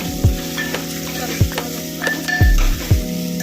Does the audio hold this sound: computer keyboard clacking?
no